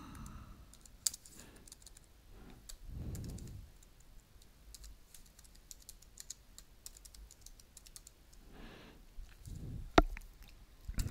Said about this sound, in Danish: Så jeg skriver lige her.